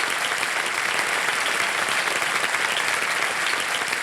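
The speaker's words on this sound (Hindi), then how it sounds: "ताली बजाते हैं आपके लिए" Steady, dense applause from a studio audience on a televised quiz show, saluting a contestant; continuous even clapping throughout with no voices on top.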